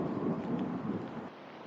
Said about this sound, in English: it started raining now